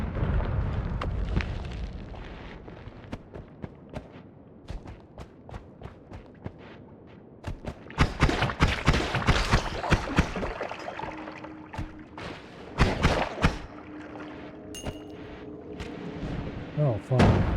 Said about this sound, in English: I'll waste one of my bombs to blow that up.